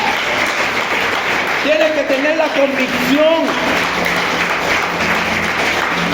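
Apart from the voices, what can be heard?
congregation applauding in church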